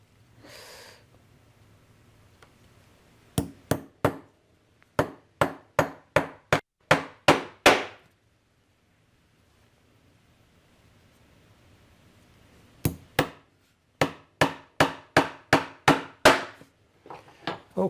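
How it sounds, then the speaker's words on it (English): Two bursts of sharp hammer strikes on a leather hinge, each a quick run of about six to eight blows in steady rhythm, separated by a quiet pause; close and loud. "Although I don't like to hammer on my hinge."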